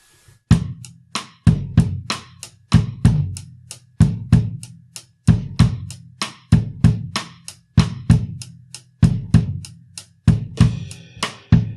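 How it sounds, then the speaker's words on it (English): Four snare drums play a driving, syncopated Brazilian rhythm of sharp, loud hits in repeating groups, each strike ringing briefly before the next; no talking. "the first 4 snares would sound like this"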